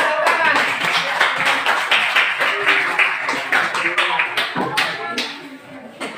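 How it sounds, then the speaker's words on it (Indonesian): People in a classroom during a project-based learning lesson clap their hands in a quick, steady, rhythmic burst of sharp claps, close and fairly loud, with some voices mixed in. "Oke, tepuk tangan."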